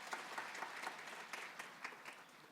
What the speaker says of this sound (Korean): 우리 귀한 헌금 찬양해 주신 아프리카 선교회 팀에게 다시 한번 큰 박수 드립니다